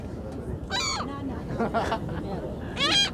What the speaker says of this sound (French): L'oiseau nous parle.